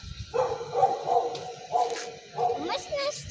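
A small dog makes short yipping, whimpering barks in a few separate bursts, close by and of moderate loudness, with some voices around it.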